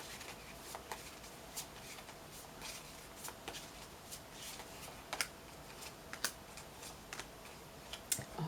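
Tarot cards shuffled and drawn during a reading, soft papery riffles and crisp card snaps and taps coming at irregular intervals, close and fairly quiet.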